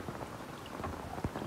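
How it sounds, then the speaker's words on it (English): Rain falling steadily outside a yurt in an off-grid setting, a soft continuous patter of drops with a brief louder tap near the end, fairly quiet and without voices. "It's raining outside, we have unlimited water right now."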